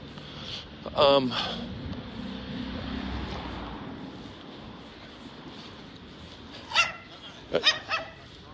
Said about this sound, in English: Barking at me, these dogs.